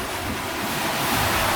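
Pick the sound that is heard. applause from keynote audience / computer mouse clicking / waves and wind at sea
waves and wind at sea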